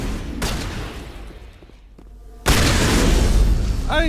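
Shotgun fire in the video game Mass Effect Legendary, a sharp blast early on, then a quieter lull before another heavy, booming burst of loud combat noise that continues to the end.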